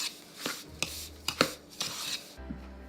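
A spoon scrapes and knocks against a bowl while stirring gluten-free batter by hand, giving a series of irregular close taps and scrapes with no talking.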